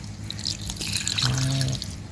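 Salt water poured into a mortar while making Lao papaya salad: a steady close trickle with drips and splashing, heard alone without voices.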